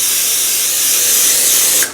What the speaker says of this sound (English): So I'm gonna go ahead and spray my pan.